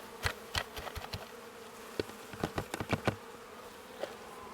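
Honey bees, mostly nurse bees shaken from a hive frame, buzz faintly amid a series of sharp, irregular knocks and bumps, with a low background hum and no talk.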